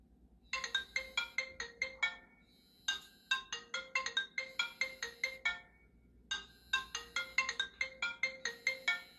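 A cell phone rings with a repeating electronic ringtone, bright chiming pulses in three clear bursts separated by short pauses, fairly faint and close with no talking.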